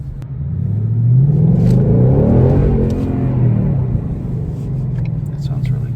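An orange 2019 Ford Mustang GT with the GT Performance Pack revs up, a loud close rumbling engine climbing and then easing back down to a steady idle-like growl.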